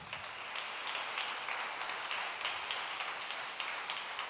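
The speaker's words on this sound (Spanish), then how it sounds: "un gran aplauso también" An audience in a university auditorium applauds at the close of a conference, a dense, steady wash of clapping held at moderate, fairly distant loudness throughout, with no talking.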